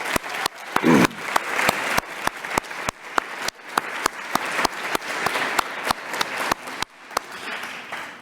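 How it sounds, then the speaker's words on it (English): Audience applause at a policy innovation challenge honoring the presenters, a steady round of clapping from a moderately sized crowd lasting several seconds, with sharp individual claps standing out. "One more quick round of applause for all of our presenters."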